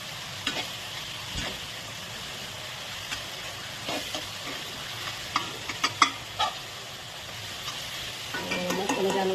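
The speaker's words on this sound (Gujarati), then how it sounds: "પછી આ છે મારી પાસે ભાજીનું મેસર, એને એક રસ કરી દઉં છું" A masher works green pav bhaji vegetables in a pan, giving scattered soft squelching knocks and clicks over a constant low sizzle, with denser mashing toward the end.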